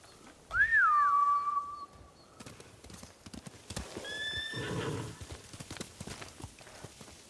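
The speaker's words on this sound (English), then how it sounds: "They're samurai mounts, trained to return to their masters." Samurai horses in the video game Ghost of Tsushima give a loud, close whinny, followed by several seconds of rhythmic hoofbeats and scattered clopping with a softer second neigh partway through.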